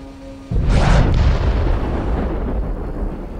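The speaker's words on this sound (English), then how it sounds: "I think that sounded quite a lot like the Homeworld explosion" A massive spaceship nuke detonates in the Homeworld 2 Stargate space-combat mod, a loud sudden boom that swells into a long roaring rumble and slowly fades, with no talking.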